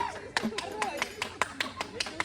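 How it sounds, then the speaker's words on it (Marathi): A few people clap hands at a lively family gathering in a village home, irregular sharp claps scattered over about two seconds and mixed with background chatter and talk. "अरे टाळ्या वाजवा"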